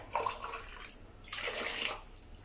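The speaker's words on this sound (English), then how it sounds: "So I'm using about 3 tins of water." Water is poured from tins into a pot for bean soup in two separate splashing pours, the second longer and fuller, fairly quiet with no talk.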